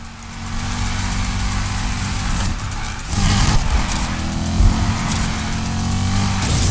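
A car engine roars steadily through a long drifting bend in NFS Heat, loud and close, with rising revs and a brief surge midway.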